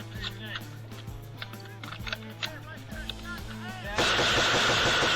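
Combat firefight during an ambush on US soldiers, with sharp gunshots and heavier thumps of a 40mm grenade launcher popping irregularly over a steady low drone, then a sudden dense burst of loud noise near the end; voices are heard.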